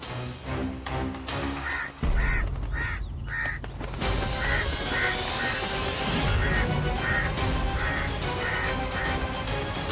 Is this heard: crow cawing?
yes